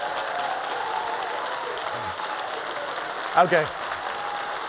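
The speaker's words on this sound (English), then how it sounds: "Can I get a little round of applause or something" A presentation audience gives a light round of applause, soft steady clapping in the background while someone speaks briefly over it.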